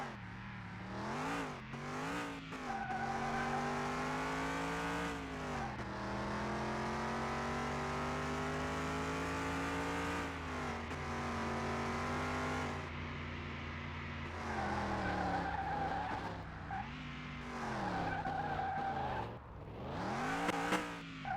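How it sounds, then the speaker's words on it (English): A loud video game car engine revs and surges continuously, pitch rising and falling, with occasional tire squeals and skids cutting through. "the car noises is very loud"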